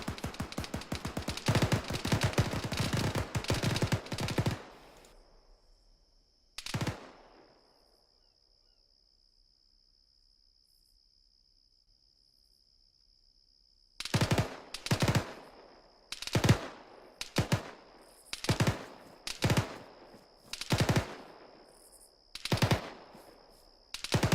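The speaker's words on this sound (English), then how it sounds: "sounds like there's shots coming from 120" Automatic gunfire in the military shooter game ArmA 3 during squad training: an opening stretch of dense rapid fire, a lone shot, a quiet gap with a steady high tone, then a series of separate sharp bursts at an even pace.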